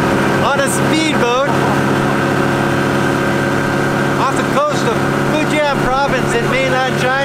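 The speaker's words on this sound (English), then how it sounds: "Here we go on a speedboat" A speedboat with a 115-horsepower Yamaha outboard runs on a river among mountains in mainland China, a steady engine hum beneath ongoing talk.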